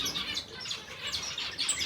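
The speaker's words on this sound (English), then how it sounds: "So we've got the Amardine finches, got a pair here." A pair of Amadine finches, African finches kept for breeding, chirp softly and continuously in short, faint tweets with no talk over them.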